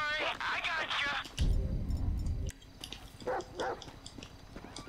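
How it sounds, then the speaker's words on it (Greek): A dog in Grand Theft Auto V barks and whimpers in short bursts, with someone talking over it and game sounds in the background. "Έλα σκύλε, φάτον."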